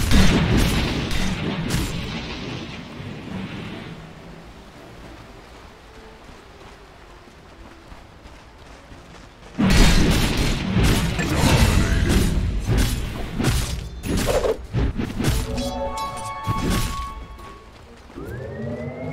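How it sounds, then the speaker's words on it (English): Dota 2 battle sounds around a tower under attack: repeated heavy booms, crashes and thuds in dense bursts, a quieter lull midway, then another loud barrage with ringing tonal effects. "Radiant's top tower is under attack."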